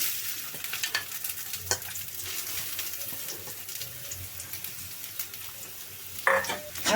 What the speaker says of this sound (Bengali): আমি এখন পেঁয়াজ কুচি দিয়ে দিচ্ছি